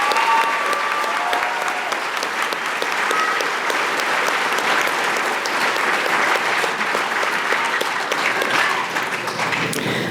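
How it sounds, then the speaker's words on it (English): Sustained applause fills a high school Veterans Day assembly honoring Marine veterans, a dense, loud, even wash of many hands clapping for about ten seconds. "Please give a final round of applause to the Marine veterans."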